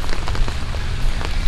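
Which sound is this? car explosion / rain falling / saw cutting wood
rain falling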